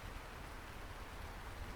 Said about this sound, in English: All planted and all watered by the beautiful, beautiful rain